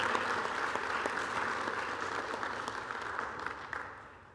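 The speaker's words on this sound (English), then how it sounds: "Can we give her another round of applause for all the great things she's doing out there?" An audience at a re-entry conference claps steadily for a speaker, a dense, even applause held for several seconds that thins slightly toward the end.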